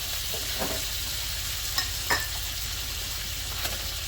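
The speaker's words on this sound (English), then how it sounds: "Stir it around, because I want to get a little bit of a char on this too." Beef short rib meat sizzles steadily in a hot pan as it is stirred for char, with a broad constant frying hiss and a few soft scraping clicks from the utensil.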